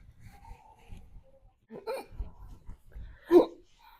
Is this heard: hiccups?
yes